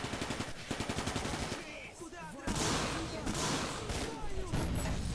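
Machine gun fire in the Combat Mission: Barbarossa to Berlin wargame, a rhythmic rattling burst followed by heavier, denser gunfire and distant shots mixed with battle noise.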